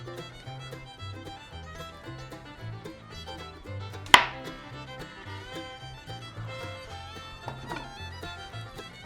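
A knife cuts through an onion on a board, one sharp cut and later a fainter one, partly masked by loud music playing throughout.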